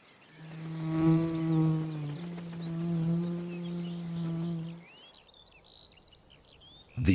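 Bee buzzing near red poppies as it carries a cut petal piece back to its nest, a steady close drone that changes pitch once midway, then fades into quieter background with bird chirps.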